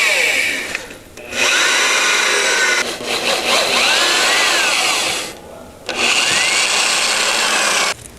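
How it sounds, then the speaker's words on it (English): Metal tapping of a freshly drilled hole in a BOSS snowplow deflector mount, heard as two long, loud grinding runs of tool noise with brief pauses between them. "I prefer to actually tap the hole itself."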